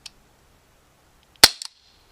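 An Umarex Walther P38 CO2 blowback BB pistol fires a single sharp, loud, close crack with a quick metallic slide clack right behind it, set against near silence.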